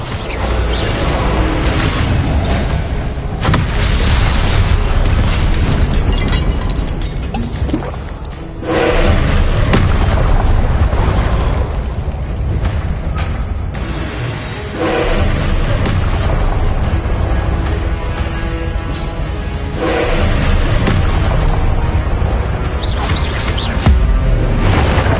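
Repeated Confringo blasting-spell explosions in the Hogwarts Legacy video game, loud booms and thuds layered over dense game music and effects, a continuous barrage with a brief lull near the middle.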